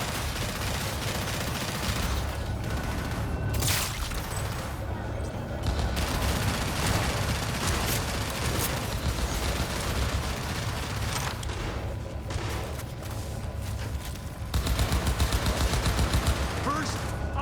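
Shotgun fire in Cyberpunk 2077 during a chaotic fight, heavy blasts and other gunfire cracking repeatedly over a dense battle din, with a voice talking at times.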